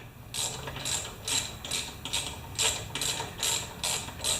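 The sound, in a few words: ratchet wrench working on mower flywheel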